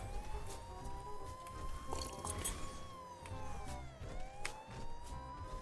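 A police car siren in the video game GTA 5 wails steadily, rising and falling in long sweeps over a constant engine rumble, loud and continuous with no talking.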